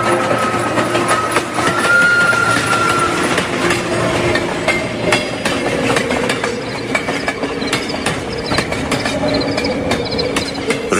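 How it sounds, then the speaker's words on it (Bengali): A night train passes through a rail yard, with a steady rumble, rhythmic clicking of wheels and a brief whistle-like tone early on, heard continuously and fairly loud with no voices. "রেল ইয়ার্ডে শীষ দিয়ে চলে গেছে রাতের ট্রেন"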